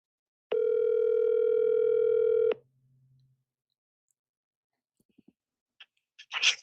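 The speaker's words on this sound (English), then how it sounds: "I'm going to call him on the phone." A telephone dial tone plays while a call is placed, holding a steady, clear electronic tone for about two seconds. A low hum and a few faint clicks and rustles follow, with no speech.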